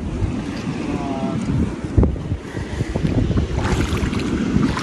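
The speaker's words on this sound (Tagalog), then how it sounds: "sobrang lakas ang alon, pati hangin" Strong wind buffets the microphone aboard a small fishing boat out on rough sea while hunting octopus, with waves slapping and surging close by in a continuous rough roar.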